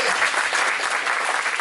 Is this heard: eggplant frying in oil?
no